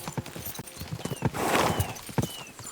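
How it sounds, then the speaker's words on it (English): Horse hooves galloping in the video game Kingdom Come: Deliverance II, rapid rhythmic clip-clop at close range with a brief swell of wind-like noise and a faint voice. "We should spur the horses on."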